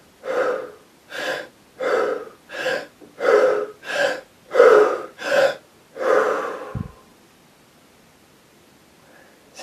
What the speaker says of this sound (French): On inspire, on relâche